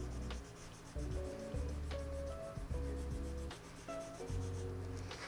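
A colored pencil blends shark-colored shading on paper. It makes a soft, close, rhythmic rubbing and scratching in short repeated strokes.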